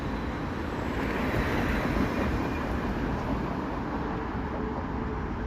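A train coming around a bend in Toronto, heard as a steady, broad rumble that holds at an even level throughout, with no talking over it.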